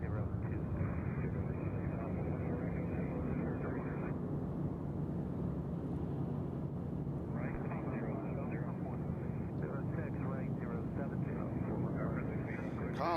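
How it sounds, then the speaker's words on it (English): Airliner departing Nashville International Airport bound for Columbus, Ohio, a steady distant jet roar that swells and fades over several seconds while someone talks over it. "the plane you hear is going to Columbus,"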